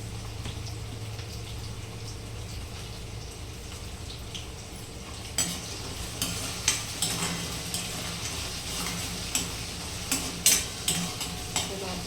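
Moong dal is fried in a pan with onion and tomato, first as a quiet steady sizzle and then with repeated sharp scrapes and clacks of a spoon as it is stirred at close range.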